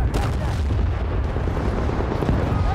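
Grenade explosion in the video game Battlefield 1943, a dense, loud low rumble of blast and battle noise sustained throughout with no clear separate bursts, voices faintly mixed in.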